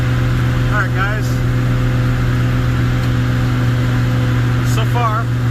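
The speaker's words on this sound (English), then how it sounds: "I can just hear it in the engine. It's lugging less." A 7060 tractor with a 301 motor lugs uphill while hauling grain, a steady low engine drone running continuously and loud throughout, with brief higher tones over it.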